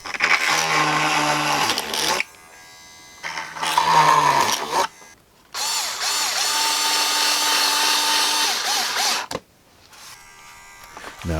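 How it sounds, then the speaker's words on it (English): A small electric drill whirs in three sustained bursts with short pauses between them, boring pilot holes for servo plate screws on an 84-inch span F8F Bearcat RC plane. "now for the pilot holes for the servo plate screws."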